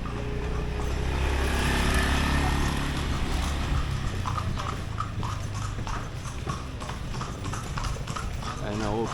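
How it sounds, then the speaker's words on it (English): Horse-drawn carriage hooves clip-clop steadily on the street of an old quarter of Lampang, a continuous rhythmic clatter over traffic and street noise. "It really is a joy touring this old quarter on a horse-drawn carriage."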